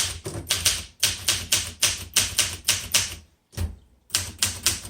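Crisp mechanical keystrikes from a 1966 Olympia SM9 vintage manual typewriter come in quick bursts of clacks, each cluster separated by short pauses, with one longer gap before typing resumes; close, dry and clear with no talking.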